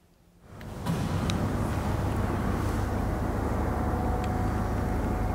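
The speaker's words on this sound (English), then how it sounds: "Here, you can hear a helicopter." Steady, loud broadband rumble of a helicopter flying near a naval base, heard from aboard a decommissioned destroyer; the drone rises in the first second and then holds constant and close.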